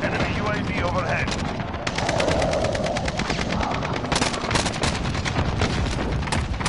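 Video game gunfire, rapid machine-gun bursts and scattered shots crackling continuously close by, with voice chatter underneath.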